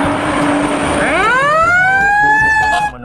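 A fire truck's loud wailing siren rising in pitch and holding a high tone, close and steady over a low rumbling background.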